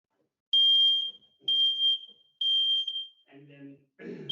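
A strobe alarm device is set off on test, giving three loud, piercing high beeps of about a second each at close range. A voice talks briefly afterward.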